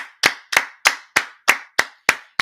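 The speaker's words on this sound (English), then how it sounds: "let's clap it up for that." A group claps in unison, eight sharp, evenly spaced claps ringing out crisply and close, with no talking over them.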